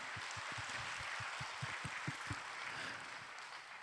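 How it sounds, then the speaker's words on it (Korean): A church congregation claps in thanks, the applause faint and distant, with a run of rhythmic low thumps partway through. "우리 하나님께 감사의 박수 올려드립니다."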